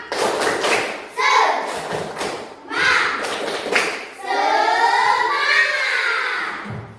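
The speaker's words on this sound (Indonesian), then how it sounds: "Tepuk semangat." Children chant the 'tepuk semangat' clapping routine in a classroom, their voices loud and close, punctuated by bursts of claps and thuds between the chanted phrases.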